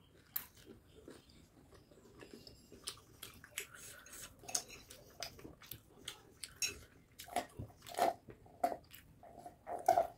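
Someone eating a bite of spicy chicken curry, quiet close-up chewing and crunchy bites with a few light taps of cutlery.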